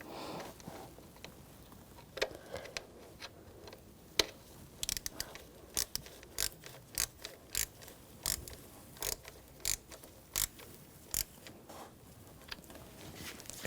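A ratchet wrench tightening a bracket down on a 2010-2014 Volkswagen GTI engine, a run of quick sharp clicks in short regular bursts, close and crisp against a quiet background, no talking.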